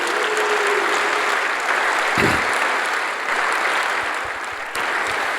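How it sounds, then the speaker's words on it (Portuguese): A church congregation applauds in steady, dense clapping that fills the room throughout, with a brief thump and a few scattered voices under it. "Dá um aplauso aí ao Senhor Jesus."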